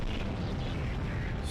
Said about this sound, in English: Slow mo explosion.